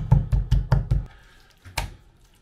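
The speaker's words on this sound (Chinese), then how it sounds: "我先把这个鸡腿放到案板上，拿刀背敲打敲打" Knife spine tapping a thawed raw chicken leg on a cutting board, five firm evenly spaced knocks in quick succession followed by one more after a short pause, close and clear.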